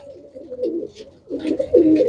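A large pigeon hen and other pigeons give soft, near cooing in short rolling bursts, a pause in the middle, then a louder, fuller coo with faint wing rustles.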